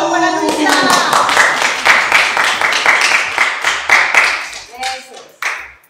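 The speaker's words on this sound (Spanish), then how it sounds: "un aplauso para Luisa" Group clapping for a participant named Luisa at a university gymnastics-for-all session: a burst of rapid, overlapping handclaps at close range that carries for several seconds and then tapers to a few scattered claps.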